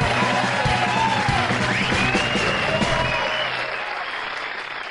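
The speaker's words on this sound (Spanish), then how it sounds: "Así que, por favor, realicen un aplauso." A large audience applauds steadily, with scattered cheers and whoops, the clapping easing slightly toward the end.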